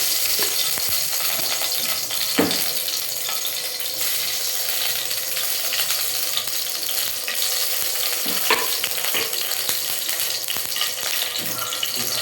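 Ghee sizzles steadily in a hot pan while pongal fries, a continuous close crackle with occasional stirring scrapes and no voices.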